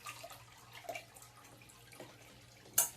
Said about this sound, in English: There we go, we got water already. And we have water flow.